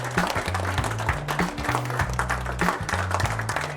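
A seminar audience on business networking claps steadily together, a dense continuous patter close at hand over a low musical bed, with a faint voice mixed in.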